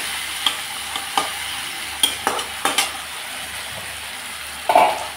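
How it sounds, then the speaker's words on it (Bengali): Chopped tomato sautéing in a pan, with a steady low sizzle and a spatula scraping and clinking against the metal at irregular intervals, close and clear, with no talking. "টমেটোটাকে একটু কষিয়ে নিলাম"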